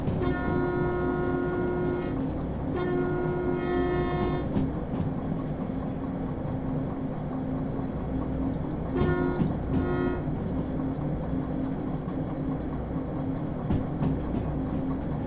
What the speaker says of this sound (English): We got the long blast and the short blast.